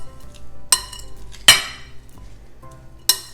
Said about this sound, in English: So mix this beautiful little slaw salad.